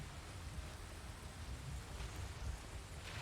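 Rain in the video game Valheim: a faint, steady hiss of rainfall with soft patter, even and continuous, with no voices.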